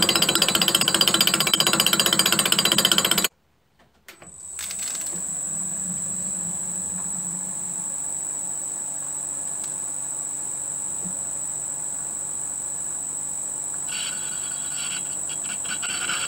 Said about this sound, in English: it's just a process here of hacking out the centre of the pulley and bringing it to size